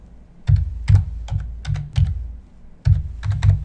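A computer keyboard clatters as a username is typed, with short bursts of crisp, close keystrokes in an uneven rhythm, a few quick taps at a time with brief pauses between them.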